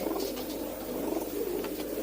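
Several pigeons coo steadily at close range, their low throaty calls overlapping in an unbroken murmur.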